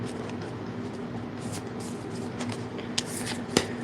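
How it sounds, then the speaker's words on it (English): A deck of tarot cards is shuffled by hand in a fairly steady, close-up riffle and slide, with a couple of sharper card snaps near the end and no one speaking. "Let's shuffle these and see what other cards we can get."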